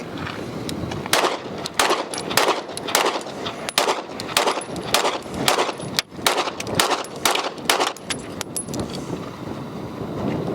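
A ported Springfield Echelon 9mm pistol fires a rapid string of sharp, loud shots at an outdoor range, with a brief pause partway through the volley.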